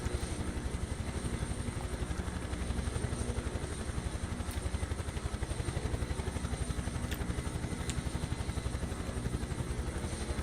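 Huey helicopter in Microsoft Flight Simulator 2024, the rapid, rhythmic thump of its rotor blades over a constant engine whine, close and steady throughout with no voices.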